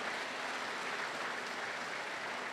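A church audience applauds during a special live worship service, a steady, dense clapping that holds at an even level from start to finish with no talking.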